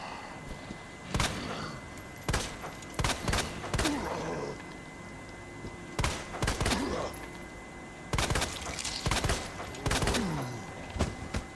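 Gunfire in Resident Evil 2, sharp shots ringing out in scattered clusters and rapid bursts, fairly close, with short pauses between volleys.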